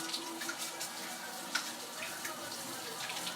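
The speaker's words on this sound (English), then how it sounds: "I'm going to rinse my hands again." Hands are rinsed under a running kitchen tap, a steady splashing water stream with small irregular spatters, close and moderately quiet, no voice present.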